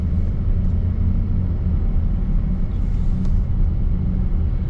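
Steady low engine rumble and road noise heard from inside a car cruising around a town, continuous and fairly loud with no talking.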